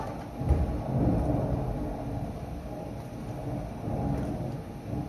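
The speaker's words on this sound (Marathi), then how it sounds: "पावसाचा आवाज." Heavy rain with low rumbling thunder, a continuous dull roar swelling and easing over a few seconds, with no voices.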